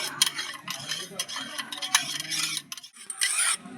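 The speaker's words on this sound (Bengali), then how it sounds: "এই চিনিটা ভালো করে গুলিয়ে নেব" A spoon scrapes and clinks against a bowl while dissolving sugar in warm water, with a quick irregular swirling rhythm and a few sharp taps, close and moderately loud.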